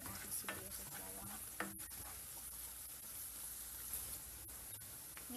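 Chopped onions and garlic frying in a pan, a steady soft sizzle with occasional stirring scrapes and clinks, close and moderate in level, with no talking.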